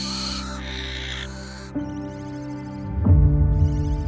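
Barn owl chicks give harsh hissing, rasping screeches, loud and close, several overlapping calls in quick succession with a deeper rasp near the end.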